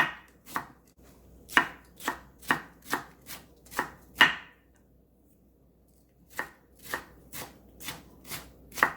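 A knife julienning half a cucumber into thin strips on a cutting board: two bursts of crisp, evenly spaced chops, eight or so each, separated by a short pause, close and fairly loud with no talking.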